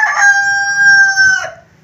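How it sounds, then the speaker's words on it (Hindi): A rooster in a Jhelum village crows once, loud and close, a single sustained piercing call that breaks off and fades, with no talk over it. "ये मुर्गा है"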